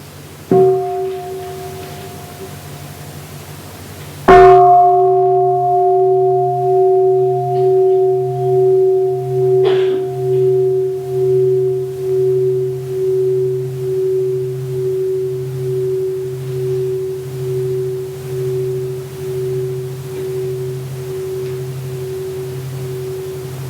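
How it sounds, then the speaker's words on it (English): A mindfulness bell is struck twice during a Buddhist Dhamma talk, each time giving a clear ringing tone that hums and pulses slowly for a long while. No one speaks. "We'll listen to the sound of the bell."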